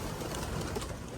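Soft cooing of pigeons mixed into a dense, steady outdoor wash of wind noise at a pigeon loft, faint and without any talking.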